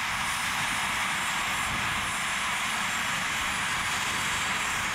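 A large, finely built RC model helicopter flies at an outdoor show, giving a steady, dense turbine-like whine and rotor hiss that holds evenly at moderate distance throughout.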